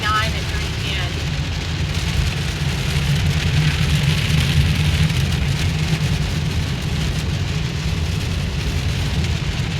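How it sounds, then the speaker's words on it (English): Heavy thunderstorm rain beats steadily on a car driving home, a loud, dense wash of drumming drops over road rumble, with people talking in the background. "This is crazy, the storm that we're in."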